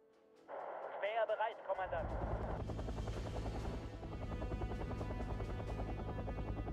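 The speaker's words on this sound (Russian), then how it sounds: "У него еще один верт летит." A military helicopter in the video game Wargame: Red Dragon flies with a steady, throbbing rotor drone that rises and fills the mix, preceded by a brief burst of warbling game sounds.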